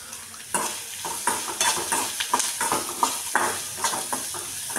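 Onions being sautéed in a pan, a spoon stirring and scraping in irregular strokes over a steady sizzle, close and clear with no talk.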